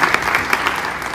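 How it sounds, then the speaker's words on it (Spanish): Audience applause at a stage presentation, a steady wash of many hands clapping throughout, fairly loud and continuous with no talking over it. "les pido un aplauso"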